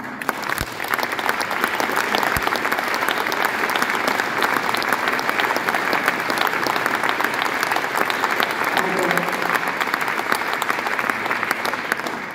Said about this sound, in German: Das verdient einen ganz speziellen Applaus für die Musik.